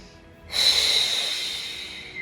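Single long breath during a stretching exercise for tight legs and hips, a close airy exhale that swells quickly and fades slowly, heard alone.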